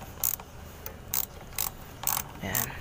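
Ratcheting clicks from tightening the spring-loaded screw on a foot brake during repair, heard as six short bursts spaced about half a second apart, close and fairly faint, with no talking.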